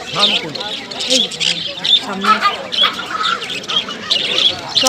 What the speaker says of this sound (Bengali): পাখির কিচিমিচি শব্দে কিন্তু মনটা ভরে ওঠে